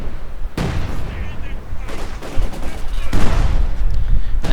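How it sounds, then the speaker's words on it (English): Sturmgewehr assault rifle fire in the game Company of Heroes 2, loud rattling bursts and rolling battle noise across the clip, starting abruptly and swelling toward the end. "Sturmgewehr bullets put a very dramatic end to those."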